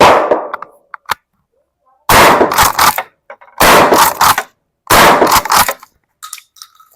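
Shots from a firearm loaded with buckshot at an outdoor shooting range, three or four loud, close blasts spaced about a second apart, each with a brief rattling tail, then quiet clinks.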